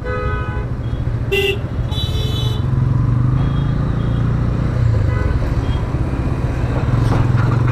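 A motorcycle rides through a traffic jam on a road toward Uttara, its engine droning steadily under dense traffic noise while several car horns toot in short bursts nearby.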